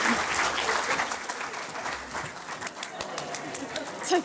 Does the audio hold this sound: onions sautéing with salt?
no